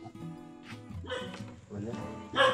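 A dog gives a few short barks and yips amid people talking outdoors as visitors call out at a home, the louder bark near the end over the voices.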